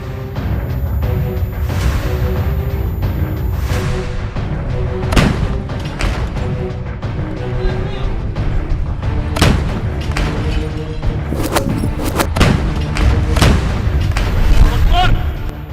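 Heavy bombardment explosions sound in war footage from southern Lebanon toward the Israeli border, as repeated booming blasts and sharp bursts at irregular intervals over a continuous rumbling background, with talk heard in places.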